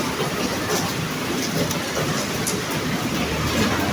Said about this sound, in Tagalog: Wow, umuulan.